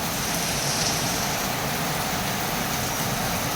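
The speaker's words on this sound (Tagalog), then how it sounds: "panoorin na lang natin yung pagbagsak ng malakas na ulan" Heavy rain pours steadily and loudly as a continuous broadband hiss, heard from inside a small shop in Quezon City, with no talking over it.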